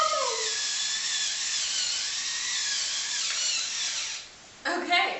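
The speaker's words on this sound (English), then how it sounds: "It's automatic. It grinds up the peppercorns for you." An automatic electric pepper grinder crushes peppercorns with a loud, steady high-pitched motor whine, which stops abruptly before a brief clattering rattle at the end.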